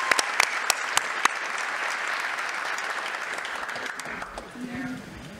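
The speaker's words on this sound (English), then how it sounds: "Another round of applause for the judges here." At a local celebrity dance competition, the crowd applauds the judges with a full, sustained round of clapping that slowly tapers off, and a voice speaks briefly as it fades.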